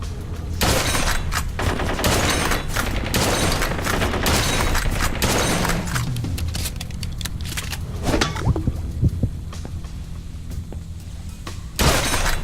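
Dense bursts of gunfire and booming impacts come from a shootout in the video game Blue Estate, loud and rapid for several seconds, then thinning out to a few scattered shots and a final blast.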